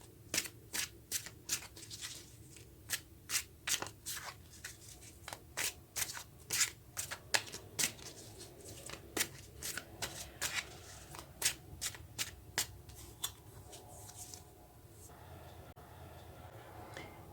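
Tarot cards are shuffled and moved by hand, producing rapid bursts of crisp riffling and slapping card sounds in an irregular rhythm over many seconds, close and fairly loud, tapering to quieter handling at the end.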